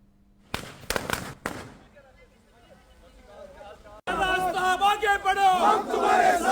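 Firecrackers crack in three sharp, loud bursts at a Congress party celebration, then a crowd breaks into loud, rhythmic chanting and cheering.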